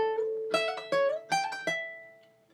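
Short guitar lick on the first string using a hammer-on, played alone: a handful of quick plucked notes with bright ringing tones, the final note sustaining and slowly decaying.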